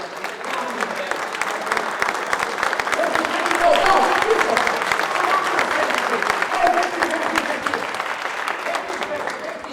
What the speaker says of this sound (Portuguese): É levantar para a gente aplaudir